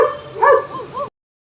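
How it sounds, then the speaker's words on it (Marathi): Two German Shepherd dogs bark from a dog house, a few quick, fairly loud barks and yips in a short burst that then cuts to silence. "तुम्ही बघू शकता या डॉग हाऊस त्यांनी जे बनवलं आहे तिकडून 2 जर्मन शेफर्ड बार्क"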